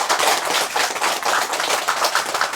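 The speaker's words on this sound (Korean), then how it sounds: "오늘 오신 분들을 위하여 박수." Brisk group clapping from a congregation at a Buddha's Birthday Zen center service, welcoming attendees, close and steady with uneven bursts.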